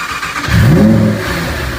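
A Lamborghini Huracán Tecnica stuck in limp mode revs its engine close by, one short rising rev that climbs, plateaus, then settles back to a steady drone.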